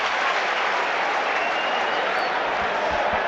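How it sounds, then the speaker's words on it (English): Football crowd at Birmingham City against Ipswich Town applauds, a loud continuous wash of clapping from a big stadium audience, steady throughout with a faint voice under it. "Crowd applaud."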